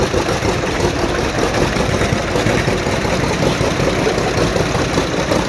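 An antique Model A tractor set up for tractor pulling, with a modified air intake, alternator and disc wheels, runs steadily and loudly close by at a dense, rumbling idle with no pauses.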